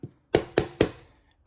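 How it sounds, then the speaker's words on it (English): Three sharp wooden knocks in quick succession, like solid wood dovetailed drawers being shut in a 2025 Brinkley Model Z Air 285 travel trailer, close and alone after a softer first bump. "Let's take a look at our drawers real quick."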